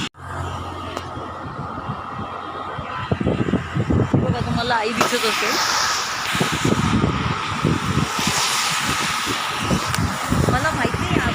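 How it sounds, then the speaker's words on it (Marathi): Road traffic with vehicles passing nearby on a rainy day in Ladakh, a steady rumble and swish of cars heard under someone speaking close to the microphone. "इथे गाड्यांचा खूप आवाज आहे त्याच्यामुळे"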